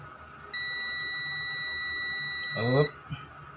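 An Epson printer being powered on during a no-power repair gives a long, steady electronic beep, followed by a short burst of someone speaking.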